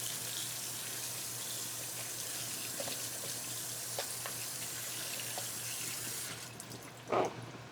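Tap water runs steadily into a sink while potatoes are washed, with small clinks and splashes, ending in a brief louder splash.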